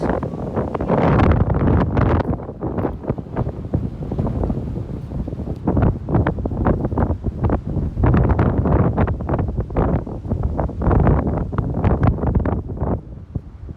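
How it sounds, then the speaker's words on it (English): Strong wind buffets and roars across the microphone in continuous gusts, loud and close, with no voices. "It's a bit windy today."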